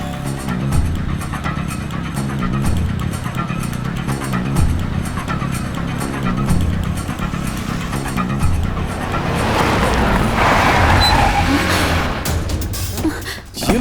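A car pulls away in a movie chase scene, engine surging and rising under music and voices, building to louder revving and tire noise toward the end.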